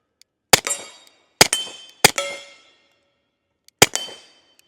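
A stainless Sig 1911 Series X pistol fires four loud, sharp shots outdoors, three in quick uneven succession and one after a pause, each with a short ringing tail.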